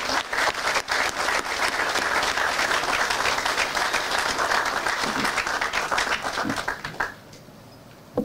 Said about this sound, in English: If we can give them one more round of applause.